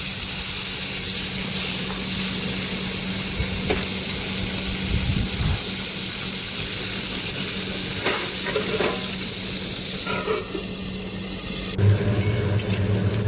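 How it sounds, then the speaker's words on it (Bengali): Bitter gourd frying in hot oil in a Bengali home kitchen gives a steady, close sizzle throughout, with occasional stirring clatter and a brief burst of louder spattering near the end. "আমি উচ্ছেগুলোকে ভেজে তুলে নেব।"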